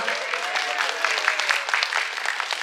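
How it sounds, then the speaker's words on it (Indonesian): A crowd at a beauty expo talk show claps steadily, the sustained patter moderately loud and fairly distant, with a host's voice talking over it. "Boleh berikan tepuk tangan"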